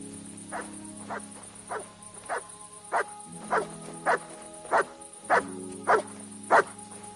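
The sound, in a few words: dog Mutt barking in video game Kingdom Come: Deliverance 2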